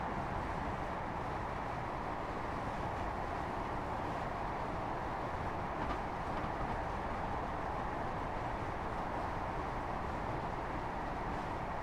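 A train runs along the Midland Main Line in the Train Sim World 3 game, a continuous low rumbling roar of wheels and motor with a steady, even texture and no voices.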